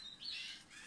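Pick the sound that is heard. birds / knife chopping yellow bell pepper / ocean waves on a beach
birds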